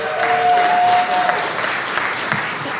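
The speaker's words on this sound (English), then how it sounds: "one more round of applause for the maestro" Audience applause at a Detroit public art announcement, a brief dense burst of clapping from a crowd, moderately loud and fading slightly toward the end.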